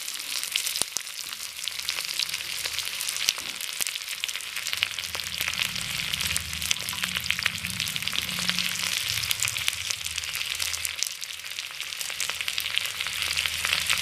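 Fenugreek seeds and chopped tomato frying in oil for a thick, spicy fish gravy, giving a steady, dense sizzle that holds at an even level the whole way through, with no talking.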